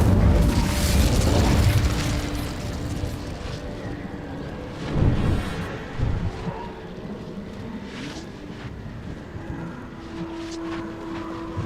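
Incendio fire spell cast in Hogwarts Legacy: a loud whooshing burst with a rumbling boom, followed by crackling flame and fainter mechanical rumbles that fade over several seconds.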